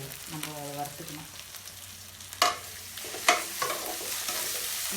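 Dried fish frying in a pan, a soft steady sizzle with a couple of sharp stirring scrapes close by, briefly under a voice humming or speaking at the start.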